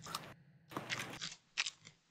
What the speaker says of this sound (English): Hear me crunching and munching over here.